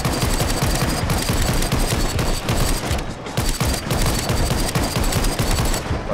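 Rapid gunfire from a fast-firing weapon against a horde of zombies in the VR game Arizona Sunshine: a dense, loud, continuous burst of shots with only brief pauses, close and overpowering.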